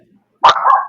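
A single sharp dog bark, close and loud, with a short drawn-out tail, after a brief quiet moment.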